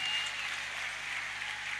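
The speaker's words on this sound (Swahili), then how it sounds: "Tupigie hao wanarika makofi mazuri." A church congregation applauds the youth at a Sunday youth service, a dense wash of clapping heard from a little distance and holding steady throughout.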